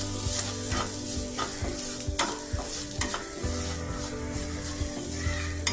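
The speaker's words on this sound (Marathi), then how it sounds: "कांदा थोडा लालसर झालाय, हळद घालूया, मिरची पावडर, गरम मसाला थोडं परतून घेऊया" Onion with turmeric, chili powder and garam masala sizzles in a hot pan while a utensil stirs and scrapes it, giving a steady fry with repeated clinks and scrapes, close and moderately loud.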